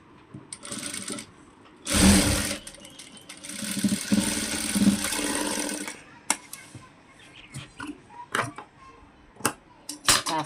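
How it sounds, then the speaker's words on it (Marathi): A sewing machine stitching the shoulder joint of a princess-cut blouse, running in loud whirring bursts with pauses between, plus light clicks and handling noises. "तर हा चला शोल्डर जॉईंट करून घेऊया आपण"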